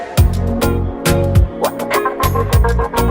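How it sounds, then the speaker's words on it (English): A gated reverb on a dancehall beat in a Pro Tools mix: punchy drum hits each bloom into a dense reverb tail that cuts off abruptly, loud and rhythmic with bass underneath and no voice. "we have a gated reverb right here"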